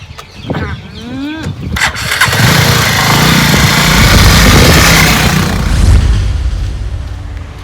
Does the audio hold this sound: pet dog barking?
no